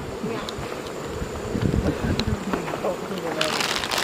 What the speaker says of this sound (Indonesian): Jadi lebah-lebah ini baik, dia nggak akan menyerang kita kalau kita tidak mengganggunya.